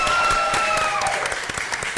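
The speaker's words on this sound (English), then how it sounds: "Give them a round of applause" Applause at a school governing board meeting for a 4th grade ukulele ensemble, brisk clapping with a few sharp individual claps, close and fairly loud, with a faint tonal ring fading underneath.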